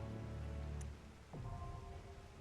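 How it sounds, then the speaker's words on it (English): Steady rain falls in Final Fantasy XIV Endwalker, a dense wash of hiss under humming game music tones that dip briefly midway, with no voices. "Rain hard."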